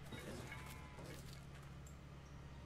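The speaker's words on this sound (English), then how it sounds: "There's sheep." Sheep bleating in the video game Civilization V, a few short bleats over a low game music and ambience bed, moderately faint with no speech.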